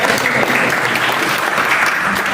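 Loud, dense applause from a debate audience greeting a speaker at a medical students' abortion debate, sustained clapping close and full throughout.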